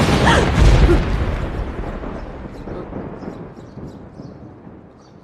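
A single loud, deep boom of thunder cracks up close, then rolls and rumbles away for several seconds before fading.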